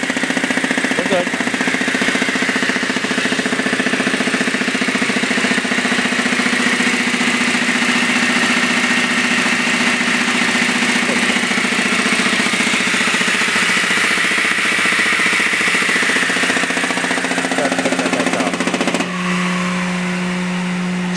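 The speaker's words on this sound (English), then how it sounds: "Blower's back on." An industrial blower runs at a Deltrol pressure and vacuum life cycle test setup, a loud, steady close roar with a low hum throughout that drops in pitch and level shortly before the end.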